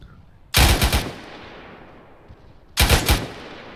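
Two loud, close bursts of belt-fed machine-gun fire in the military video game Arma, each a rapid cluster of shots, separated by about two seconds of quiet.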